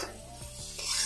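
Spices with ginger frying in a pan, a brief rasping scrape of a spatula against the pan over a soft sizzle, close and short.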